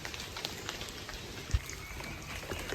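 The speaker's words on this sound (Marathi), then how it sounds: "पाऊस पडतोय छान वाटतंय" Rain pattering steadily on a village farm, a soft, even hiss of falling drops with one brief louder tap near the middle, fairly quiet and with no voices.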